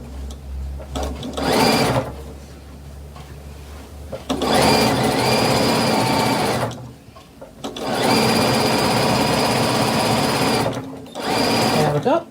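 Sewing machine running in a home sewing room, several loud close bursts of stitching separated by brief pauses, ending with a back tack, with a person talking in between.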